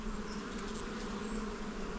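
Honeybees buzzing on a piece of hive comb during a hive inspection, a dense, steady close drone of many wings without pause, and no talking.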